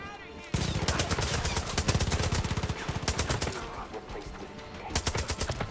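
Rapid automatic gunfire in the video game Far Cry 5, fired in dense bursts and short volleys one after another, loud and close, with someone talking over it.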